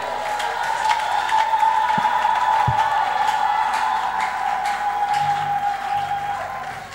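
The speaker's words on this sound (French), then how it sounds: "Applaudissez encore pour la parole" A church congregation applauding in a steady, continuous wash of clapping with a few louder knocks, at even loudness throughout.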